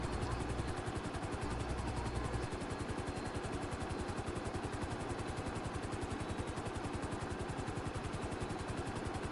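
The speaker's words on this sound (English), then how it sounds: "I think the helicopter's been making that whining noise for a while now." A helicopter in the video game GTA 5 drones with a steady rhythmic rotor chop and whine, loud and constant throughout with no talk.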